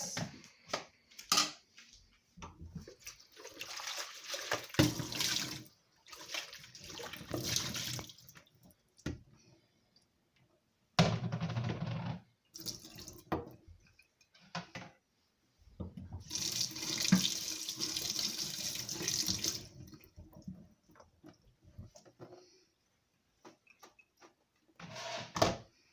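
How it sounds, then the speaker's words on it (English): Homemade plum, grape, kiwi, apple and cucumber juice is poured and strained into a container, giving a few separate bursts of splashing and trickling liquid with quiet pauses between them and no talk. "So I am going to strain my juice."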